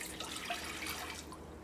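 About one and a half cups of water are poured into a pan to melt jaggery for unniyappam, making a short, quiet splashing trickle.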